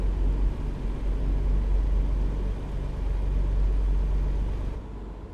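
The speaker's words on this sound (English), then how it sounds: "This truck, every time I rev up, it's making me woofer vibrate." A truck engine in American Truck Simulator rumbles steadily at heavy low pitch, a continuous deep drone held for several seconds, loud and close, then cutting off abruptly near the end, with no talking.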